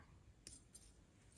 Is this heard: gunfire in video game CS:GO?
no